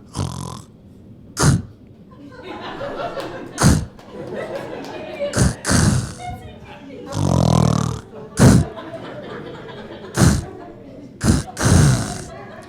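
Someone mimics a sputtering snore like a stalled engine, with choppy bursts and a long rumbling drone, separated by sharp snorts and pauses.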